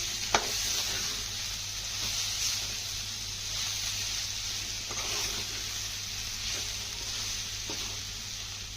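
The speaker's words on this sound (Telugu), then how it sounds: "కారం వేసాక బాగా కలుపుకోండి." Broad beans fry in a kadai as chili powder is stirred through them, giving a steady close sizzle with a few faint scraping taps and no voices.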